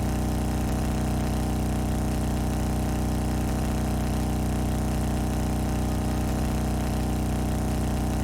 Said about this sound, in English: I feel like the bike noise is too loud.